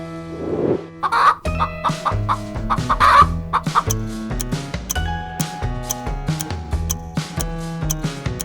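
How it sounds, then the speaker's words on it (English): A chicken clucks in a run of short, irregular calls over light music, with a brief crow-like squawk near the start; clear and close, no talk. "Chicken!"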